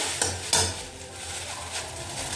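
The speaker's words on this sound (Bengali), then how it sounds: "এই টিফিনটা চাউমিন করছি সবজি দিয়ে একদম ভেজ চাউমিন" Vegetable chow mein, with no egg and very little oil, is stir-fried in a pan: two sharp utensil clanks come early, then a soft, continuous sizzle with faint scraping.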